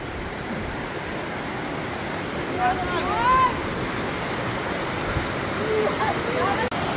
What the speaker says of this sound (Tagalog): Ayun ang malakas, ang agos.